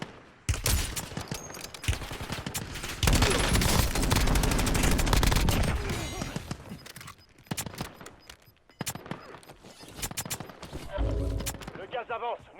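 Gunfire in the battle royale game Warzone, with dense bursts of rapid shots and heavy volleys rolling through much of the scene, loud and close at times and thinner elsewhere, with voices talking over parts of it.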